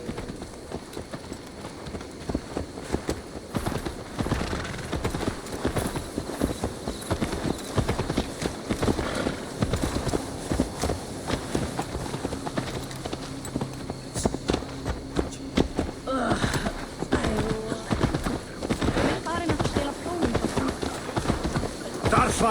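Horse hooves clip-clop steadily at a walking pace for over twenty seconds in the video game Assassin's Creed Valhalla, with someone talking over them and a light ambient bed behind.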